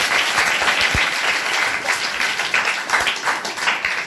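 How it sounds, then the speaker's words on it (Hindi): Applause from children and staff for their teacher at a school Children's Day celebration: dense, steady clapping fills the whole stretch at close range. "एक बार मैम के लिए ताली भाई।"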